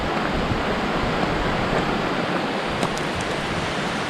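Pericnik waterfall, a loud continuous roaring rush of falling water close by, with wind buffeting the microphone.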